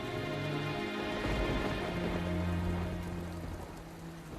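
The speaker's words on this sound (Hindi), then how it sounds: "बाहर बारिश हो रही है।" Steady rain falls outside, a continuous dense patter on surfaces with no breaks, moderately loud and alone without voices.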